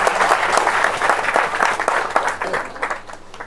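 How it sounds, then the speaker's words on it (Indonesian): An audience at an Indonesian gathering applauds together, a dense, steady wash of many hands clapping at close range that holds strong before thinning slightly toward the end. "tepuk tangan dong untuk rekan-rekan sekalian"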